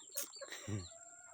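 A few short chicken clucks and fowl calls close by, with a brief low thump mixed in among the bird sounds.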